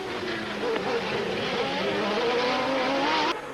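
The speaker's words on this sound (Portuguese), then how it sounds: "Vamos outra vez no carro do Berger" Onboard roar of Gerhard Berger's Formula 1 car racing through the streets of the 1990 Monaco Grand Prix, a loud, continuous high-revving engine whine with rising and falling pitch as it accelerates and shifts, filling the whole stretch.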